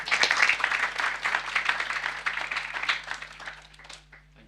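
An audience applauds with sustained clapping from many hands, loud at first and gradually thinning out toward the end.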